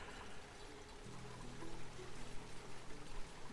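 Polluted water pours in the video game Oxygen Not Included, a faint, continuous rushing stream that swells slightly partway through, with no voices.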